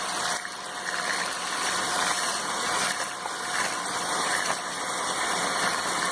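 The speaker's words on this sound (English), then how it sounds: "We just need to whisk it till our sugar mixes into it and the mixture becomes creamy." Eggs and sugar are whisked together in a bowl for bread pudding, producing a loud, continuous mechanical whirring that holds steady throughout without any talking.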